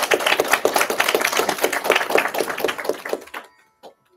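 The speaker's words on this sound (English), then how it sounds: "You're getting an applause before you." A small audience at a youth dance company classroom concert claps briskly and steadily for a few seconds, then the applause thins out and fades to a couple of last claps.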